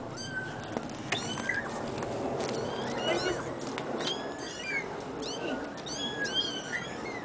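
A chorus of kittens mews repeatedly in high, shrill cries throughout, overlapping one another close by, with faint background chatter and occasional bird-like chirps.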